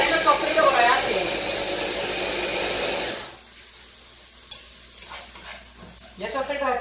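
Sofrito for ham croquettes fries in a pan with a loud, steady sizzle and stirring for about three seconds, then drops away to quieter kitchen handling as a voice speaks.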